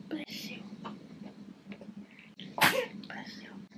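A newborn baby girl lets out a sharp little sneeze partway through, a single close burst with a soft breathy lead-in, over quiet room tone and faint whispery sounds.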